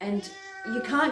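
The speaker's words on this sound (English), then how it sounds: "excuse my cat" A pet cat meows twice, close and clear, in a quick pair of calls set between bits of a person talking indoors.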